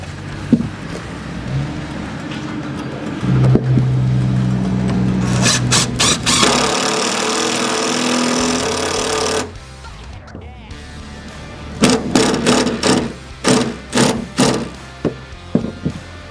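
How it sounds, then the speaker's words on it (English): Impact driver running a tech screw through timber into a main beam on a vehicle canopy build, heard as a long continuous whirring drive, then a series of short, loud bursts of driving after a pause. "I'm gonna tech screw through the timber into the main beam here"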